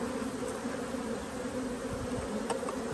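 Honey bee colony humming during a hive inspection, a dense, even buzz of many bees held close and steady over a few seconds with no voices.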